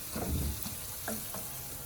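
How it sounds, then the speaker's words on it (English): Spices stirred with a spatula in a hot pan for Pakistani-style sarson ka saag with meat, giving a soft broadband sizzle with a few brief scraping strokes, fairly quiet and without talk. "After that you have to use the spatula so that the spices which you have put was not going to burn."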